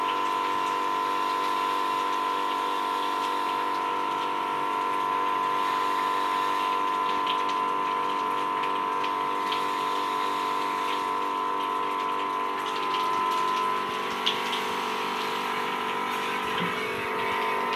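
A pressure washer sprays water through a dirty home air conditioner unit being cleaned, a steady rushing spray over a constant pump hum with a high whine, unbroken and moderately loud throughout.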